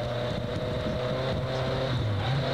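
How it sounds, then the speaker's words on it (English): A race motorcycle following a cyclist downhill during a 1998 Giro d'Italia stage gives a steady, droning engine hum mixed with wind rush, loud and constant throughout with no talking. "you can hear the motorcycle then revving to stay with Axelsen"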